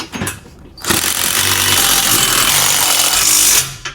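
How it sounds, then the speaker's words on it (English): Steady, loud mechanical rattle of a 9/16 socket wrench driving bolts on a MicroSport trailer during assembly, running continuously for nearly three seconds after a short opening burst. "Next, you grab your 9/16 socket and wrench and go through and tighten everything up."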